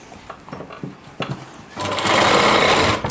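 A sewing machine stitches a heavy-work Rajputi lehenga, first in a few short bursts, then in a loud continuous run close by.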